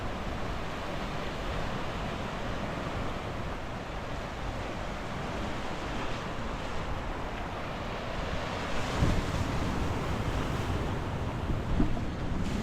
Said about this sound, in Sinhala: මෙතන පොඩ්ඩක් මුහුද සැරයි.